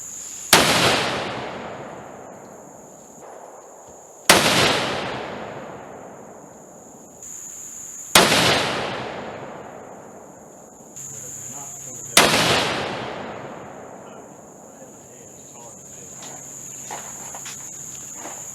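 Four sharp, loud deer rifle shots fired one after another a few seconds apart, each with a long decaying echo, during a range session shooting a group for accuracy; a steady high insect-like whine runs underneath.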